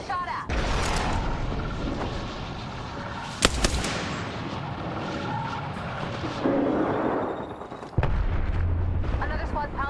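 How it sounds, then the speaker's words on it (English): Video game gunfire in a battle-royale match, sharp shots cracking at scattered intervals with a few heavier bursts over continuous game noise and talk. "Getting shot at."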